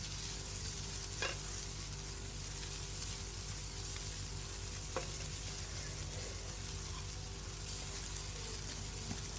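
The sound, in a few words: frying shredded boiled chicken in a pan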